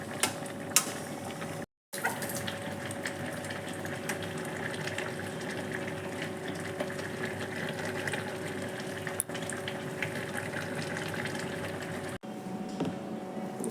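Potato and egg omelette curry bubbling in a pan: a steady soft simmering hiss with a constant hum beneath it, fairly faint and heard on its own, briefly cut twice.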